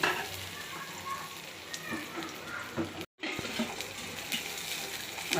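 Garlic and mustard seeds sautéing in a pan sizzle steadily up close, a continuous frying hiss with stirring scrapes, broken once by a very brief silence.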